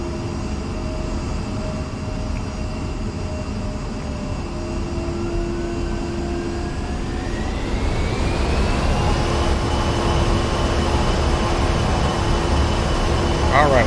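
F-16C jet engine in the DCS World flight simulator spools up to takeoff power, a steady loud roar and whine whose pitch climbs and swells partway through, with a voice talking over it.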